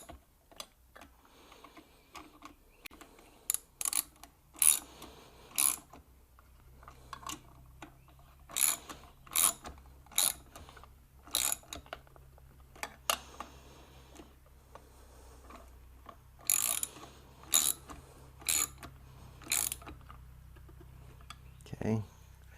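Irregular clusters of small, close tool clicks and ticks sound as screws on the ignition points of a Honda E1500 generator are tightened, with a low steady hum underneath.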